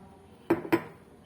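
A kadai pan is set down on a stove with two sharp metallic clanks in quick succession, close and fairly loud against a quiet kitchen background.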